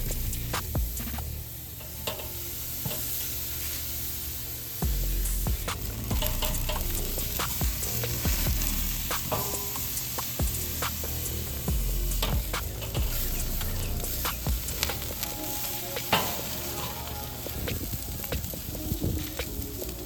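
Thin steaks sear hot and fast over a live fire, giving a steady, loud sizzle and crackle that runs unbroken for about twenty seconds, with scattered sharper pops and spits from the fat.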